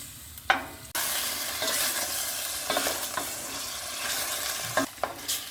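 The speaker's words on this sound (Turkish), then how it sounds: "Arkadaşlar etimizi böyle yavaş yavaş karıştırıyoruz." Meat is stirred and sautéed in oil in a pan, with a continuous sizzle broken by repeated scraping stirs of a utensil, some sharp and close.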